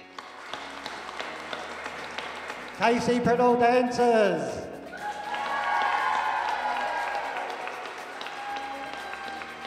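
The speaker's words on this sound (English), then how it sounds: "make a round of applause as they all come onto the floor" Audience at a TV dance awards ceremony applauds as dancers come onto the floor, with broad clapping swelling midway and continuing under an announcer's voice and loud music.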